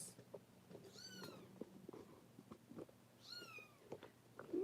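A cat meows a couple of times, rising and falling cries standing out over a quiet indoor background, with a faint chirp at the end.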